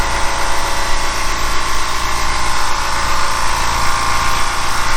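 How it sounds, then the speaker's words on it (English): A Harbor Freight Fortress 2-gallon air compressor runs steadily up close while filling its tank, giving a continuous even motor hum with a faint high hiss throughout and no talking. "it is ridiculous how quiet this thing is compared to any other compressor that I've used"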